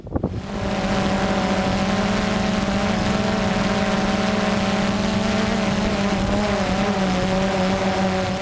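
A DJI Phantom 2 quadcopter drone flying back during a failsafe return-home test in gusty wind, a steady, loud motor whine with a sustained buzzing hum and wind noise throughout, after a brief bump at the start.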